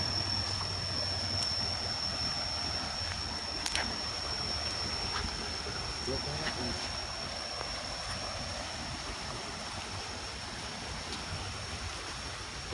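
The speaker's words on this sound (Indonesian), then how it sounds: "Sahabat bisa lihat nih, sungai begitu deras." A swift, rain-swollen river rushes in a constant loud roar of turbulent water, steady and broadband from start to finish, with no voices.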